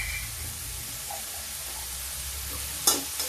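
Homemade sweet tomato chutney with spices is stirred in a pan, giving a soft continuous sizzle and one sharp scrape of the spoon near the end.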